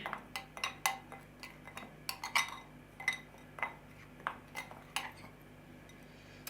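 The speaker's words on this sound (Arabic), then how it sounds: "ونخلطهم كتير منيح مع بعض لحتى كلهم يصيروا يعني روح وحدة" Spices for kleicha being mixed together in a bowl, giving a steady series of light clinks and taps at a fairly even rhythm, close and fairly quiet, with no talk.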